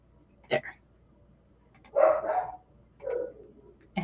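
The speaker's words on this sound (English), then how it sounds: "And now my dogs are barking" A dog barks in a few separate bursts, fairly close, with quiet gaps between them and no talking.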